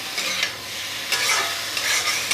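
Potatoes and papaya fry in a pan with oil and spices, giving a steady sizzle broken by several sharp scraping stirs, with no voices.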